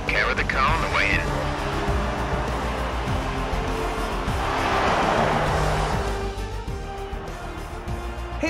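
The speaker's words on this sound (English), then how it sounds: "Here's our winner, pulling their Ferrari into Parc Fermé" A Ferrari Formula 1 car from the F1 2020 racing game rolls into parc fermé at Barcelona-Catalunya, its engine droning steadily throughout with a brief tire squeal early on, under constant commentary voices.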